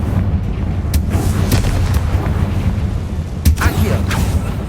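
Confringo blast spell cast in the video game Hogwarts Legacy, a few muffled booming bursts over a dense rumbling game background, with a spoken voice in the mix.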